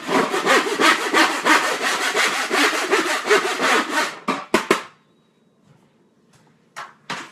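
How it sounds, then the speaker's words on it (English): A metal cookie sheet is scraped hard in a home kitchen while making biscotti, giving a loud, steady rasping rhythm of quick back-and-forth strokes, then a pause with a few short scrapes and knocks. "now we have our cookie sheet, which just a second, let me scrape this"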